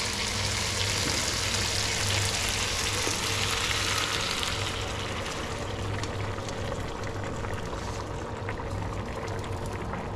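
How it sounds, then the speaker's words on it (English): Prawns sizzle and fry hard in a hot pan as sauce made from their shells is poured in, a loud, steady hiss and bubble that fills the whole clip with no talking. "Prawns are getting fully cooked very quickly, so it's time to add the sauce from the shells."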